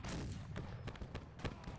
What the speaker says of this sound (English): As the Parrot gun is still firing.